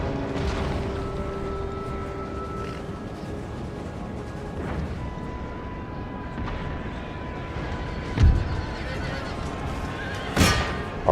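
Cavalry horses in a Total War: Empire battle neigh and whinny amid clip-clopping hooves and distant artillery booms, with a sharp crash or two standing out over the busy battlefield din.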